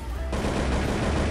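AK-47 fire in the online shooter Truy Kich, a dense, continuous burst of rapid shots at moderate loudness, steady and unbroken through the short stretch.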